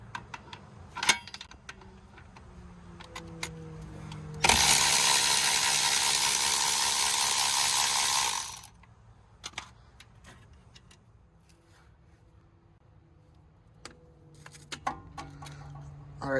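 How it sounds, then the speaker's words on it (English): Brake work on a 2019 GMC Acadia: a burst of about four seconds of loud, broadband whirring, probably a powered tool backing off the 17 mm caliper bolt, between scattered close clicks and metal clinks, with no talking. "I'm gonna loosen this right here. So this bolt right here is gonna be a 17."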